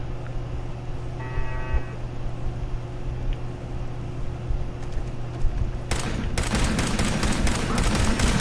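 Turret gunfire in the video game Fallout 4 opens partway through as a dense, sustained burst of rapid automatic shots, loud and continuous after a stretch of quieter game ambience.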